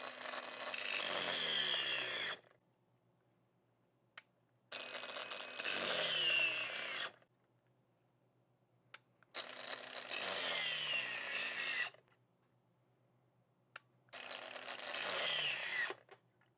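A Hyper Tough brushed cordless angle grinder runs in four separate bursts of about two to three seconds each, each one spinning up and then winding down, with quiet pauses between them and no talking.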